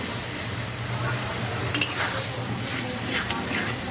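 Chicken curry frying and stirred in a pan after a splash of water, a steady low sizzle with brief scraping of a utensil near the middle, close and moderately loud.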